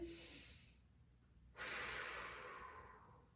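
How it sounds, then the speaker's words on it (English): Two slow, deep breaths taken close up: a long airy inhale, a pause, then a loud, drawn-out exhale that fades gradually. "You're gonna hear me exaggerate breathing"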